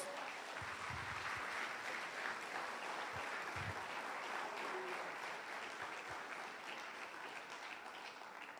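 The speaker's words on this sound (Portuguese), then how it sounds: "Dá um aplauso ao Senhor em nome de Jesus." A church congregation applauds during a Sunday service, a broad, sustained wash of clapping that stays fairly even and distant-sounding, tapering slightly near the end.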